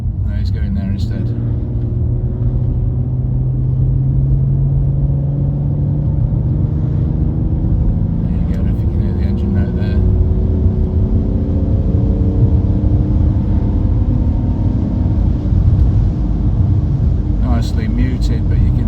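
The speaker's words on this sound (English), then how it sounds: "you can hear the straight six purring away there" The straight-six of a BMW E46 325Ci drones steadily and muffled from inside the car while driving, a constant low engine hum with road rumble and a voice talking over it at times.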